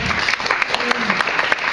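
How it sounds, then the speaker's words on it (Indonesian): Audience applause at a service-excellence training session, a steady wash of many hands clapping at close range that fills the whole moment without letting up. "Tepuk tangan dulu ya."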